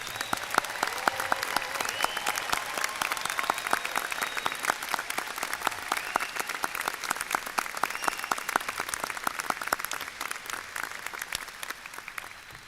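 Prolonged, steady applause from a large audience honours the graduates at a medical college oath ceremony, countless sharp claps blending into a sustained roar for over twelve seconds with no speech.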